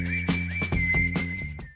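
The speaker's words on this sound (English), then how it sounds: "Such a good hook. It's being whistled." A whistled hook from a recorded song, a bright clear melodic whistle over a steady beat and bass, lasting under two seconds before cutting off.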